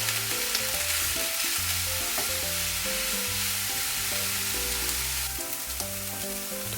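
Enoki and king oyster mushrooms sizzle in a hot pan as a risotto base is stir-fried, a dense continuous hiss with scraping stir sounds and faint background music, no voices.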